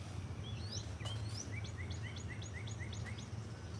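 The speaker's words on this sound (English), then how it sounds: "you hear the birds" Several birds sing and chirp outdoors on a morning as the sun tries to come out, with repeated bright whistled phrases over a steady low hum of background noise.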